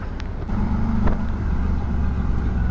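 Steady engine drone and road rumble from a Suzuki V-Strom 650 motorcycle riding on the road, fitted with a Puig Dark Smoke windshield, continuous and fairly close.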